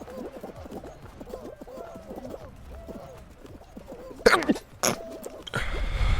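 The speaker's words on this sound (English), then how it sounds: "I'm going to sneeze again." A sudden sneeze bursts out near the end, followed by a breathy exhale, after a stretch of quiet chirpy background sounds while the game Fall Guys is played.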